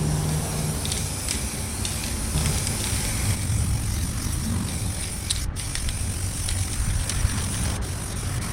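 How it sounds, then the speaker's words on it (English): An aerosol rattle can sprays paint onto the underside of 1977 Pontiac Trans Am parts, a steady close hiss that runs unbroken for over eight seconds with only faint clicks from the nozzle. "I'm going to spray some rattle can on the bottom of these just to preserve them"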